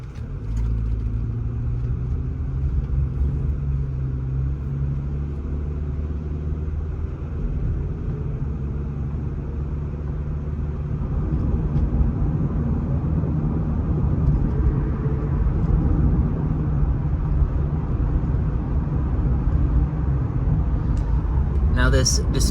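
A Toyota Solara car drives and then coasts, its low engine and road rumble steady and close from inside the cabin, easing slightly and then swelling again toward the end while a person talks over it.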